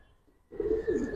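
A Giribaz pigeon in a loft starts a brief low coo after a moment of near quiet, close and moderately soft, with no talking.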